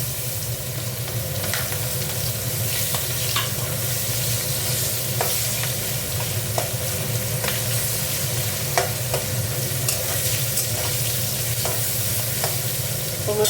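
Onion and garam masala are added to hot oil with koi fish and fry with a loud, continuous sizzle, while occasional stirring scrapes sound close by and nobody speaks.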